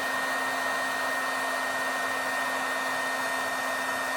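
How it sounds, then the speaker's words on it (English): An electric heat embossing tool warms up with a steady, loud blowing whir and a constant electric hum, running close and unbroken the whole time. "grab my heat tool. I'm going to turn that on so that it starts to warm up"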